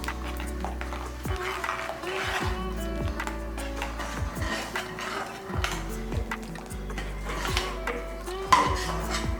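Metal utensils clink and scrape against a pot in a steady, busy rhythm as urad dal batter for porridge is poured in and stirred, with scattered clatter throughout.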